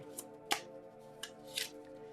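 Tarot cards are shuffled by hand in a few quick riffling bursts and soft slaps, close and crisp, with brief quiet gaps between them.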